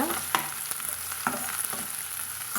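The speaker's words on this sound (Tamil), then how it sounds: "நல்லா வதங்கி வறுத்துங்க" Onions sizzle steadily in a hot pan while a utensil scrapes and stirs them every half second or so, close up, with no voices.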